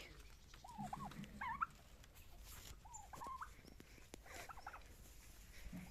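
A turkey gobbles a few times in short warbling bursts amid other farmyard fowl sounds, including roosters and chicks, moderately distant, with no talking.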